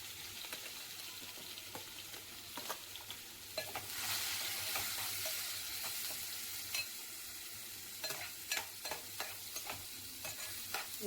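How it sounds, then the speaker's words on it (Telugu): Onions frying in oil in a pan, a soft steady sizzle with repeated stirring clicks and scrapes, faint and close, no voices. "ఈ ఆనియన్ గోల్డెన్ కలర్ వచ్చే వరకు వేయించుకుందామండి"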